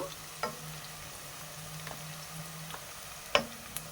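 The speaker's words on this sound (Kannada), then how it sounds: "ನೋಡಿ, ಈರುಳ್ಳಿ ಫ್ರೈ ಆಗಿದೆ ಆಲ್ಮೋಸ್ಟ್." Onions frying in a pan for chicken pepper dry, a soft, low sizzle throughout with occasional light clicks of a spoon stirring, fairly quiet and with no talking.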